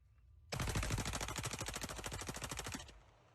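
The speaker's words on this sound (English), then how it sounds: "posted a video of himself shooting a rifle at packs of beer" A rifle fires at packs of beer in one rapid, evenly spaced burst of loud sharp cracks lasting about two and a half seconds, then stops abruptly.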